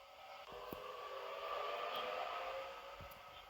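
A 4-car Oscar passenger train pulls away from a station in a train simulator game, giving a steady, moderately loud motor hum with a few faint clicks.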